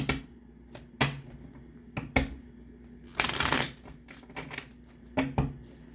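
Tarot cards being shuffled by hand at close range, in several short crisp riffling bursts separated by pauses, with one longer flurry near the middle.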